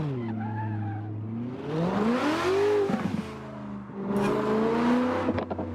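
Car drifting in the racing game Assetto Corsa on Brooklyn Park, a BDC V6 drift car driven with a steering wheel: a loud engine revving up and down with rising pitch while tires squeal continuously through the slide.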